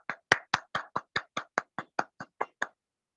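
Thirteen hollow claps ring out in a steady, even rhythm, fairly faint, before stopping, with no talk, as a guest, Mrs Preeti Rastogi, is called up.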